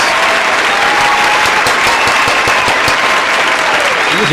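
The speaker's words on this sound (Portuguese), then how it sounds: "Mais uma vez, uma salva de palmas aos nossos colegas." A crowd at a televised Franciscan religious program bursts into steady, loud applause for fellow participants, dense clapping sustained throughout with a few voices mixed in.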